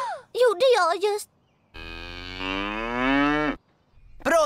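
A cartoon cow from the animated series Wayside lets out one long, low, drawn-out moo, loud and close. Brief bursts of speech come just before and after it.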